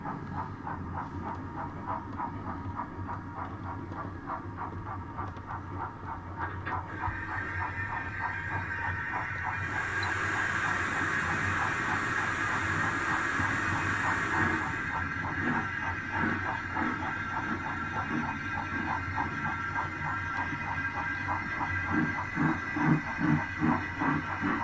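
Several model railway trains run together around a hobby layout, a steady rumbling clatter of small wheels on track with rhythmic rail joints and a hissing, steam-like tone rising in the middle, continuous and close throughout.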